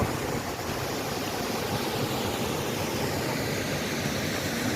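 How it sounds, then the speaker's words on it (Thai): An artificial waterfall pours down a hillside at a tourist spot in Ansan, South Korea, giving a steady, loud, unbroken rush of falling water with no voices over it. "น้ำตกจำลองครับน้ำตกจำลอง ลงมาจากเขา"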